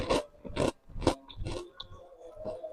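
Crunchy candied dried fruit being bitten and chewed close to the mic, with several loud crisp crunches in irregular bursts followed by softer chewing.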